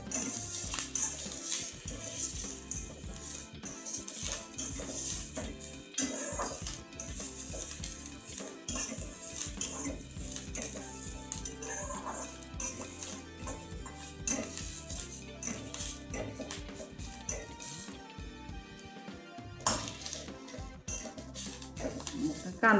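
Onion roasting in a pan for shippi amti: continuous stirring and scraping of a utensil against the pan with clinks and a soft sizzle throughout, under occasional talking.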